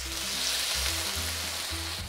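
Minced garlic and soy sauce hitting a hot pan for peppery Asian sugar snap peas, a loud, dense sizzle holding steady for about two seconds with a low hum beneath.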